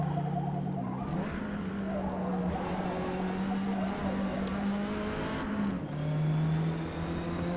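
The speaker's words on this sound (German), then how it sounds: "ein kleiner Drift" A Hyundai Veloster N drifting in Forza Motorsport: a steady engine drone with tire squeal rising through the slide, a brief dip and then a surge of revs near the end, with no talking.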